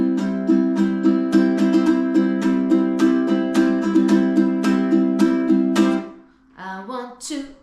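Ukulele strummed in a steady repeating pattern that follows the bass rhythm of a rock song, about six seconds of even chords, then a short looser flurry of strums near the end.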